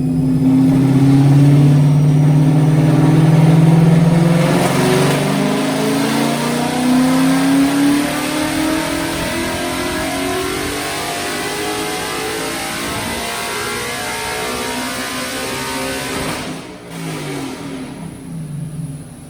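A Coyote-swapped Ford Mustang with Stainless Works long tube headers revs hard on a DynoJet dyno, its V8 climbing in rising sweeps, then holding a loud, sustained engine roar before backing off near the end.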